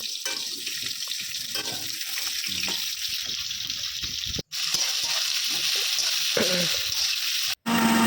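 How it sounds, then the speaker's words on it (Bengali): Potatoes frying in oil in a wok: a steady broadband sizzle that hisses continuously for several seconds, close, with two brief dropouts and faint clinks of stirring. "কড়াইয়ে আলু দিয়ে দিলাম, আলুটা ভেজে"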